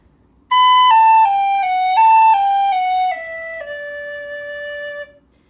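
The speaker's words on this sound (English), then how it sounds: "This is how the tune ends, just on the low D." Tin whistle plays the closing phrase of the slip jig Kid on the Mountain, a clear run of descending notes that settles and holds on a long low D, played solo and close.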